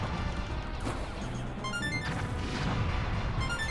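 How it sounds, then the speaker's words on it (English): Crane being shot and destroyed in Star Fox 64, a steady wash of game crashes and impact bangs layered under background music and effects, moderately loud throughout with no talking. "Quick, destroy the crane! Shoot!"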